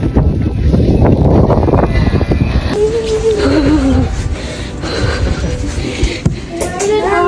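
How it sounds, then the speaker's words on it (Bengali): Strong wind with rain outdoors in a residential lane, loud roaring gusts buffeting close, with a low rumble throughout and voices faintly underneath. "সাংঘাতিক হাওয়া দিচ্ছে"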